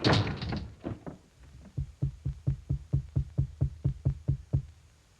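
A door slammed shut in someone's face in a Mister Men story, heard as a burst of loud knocks followed by a steady run of about a dozen evenly spaced thuds that fade slightly, with no voices.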